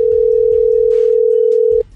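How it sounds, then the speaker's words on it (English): A loud, continuous ringback tone on a phone call drones for almost two seconds before stopping abruptly, with faint background murmur underneath. "Okay, it's ringing. It's ringing."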